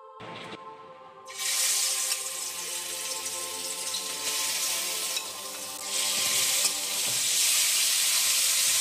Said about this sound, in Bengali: এখন আমি চিংড়ি মাছটা ফ্রাই করছি।